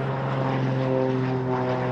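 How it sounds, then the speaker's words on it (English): Low-flying propeller plane spraying for mosquitoes at sunset, a steady droning engine hum held at even loudness for the whole stretch, with no voices. "Using low-flying planes"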